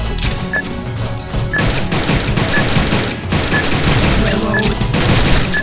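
Gunfire from the video game Dino Stalker, a dense, loud barrage of overlapping shots and crashing impacts that runs unbroken across the whole stretch, with game music or ambience beneath and no voice on top.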